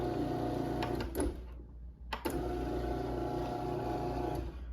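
A Genie 2040L screw-drive garage door opener runs with a steady mechanical hum and whir, cutting out briefly with clicks before starting up again; no one speaks.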